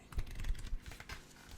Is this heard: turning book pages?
yes